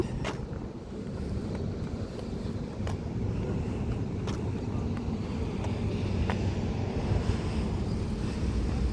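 Wind and sea waves wash steadily at a seaside spot on a hot afternoon, a constant broadband roar with low rumbling gusts and a few faint clicks, with no voices.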